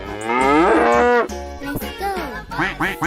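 A cow lets out one long, loud moo that holds steady for about a second, followed by shorter, wavering lowing calls, clear and close with no talk.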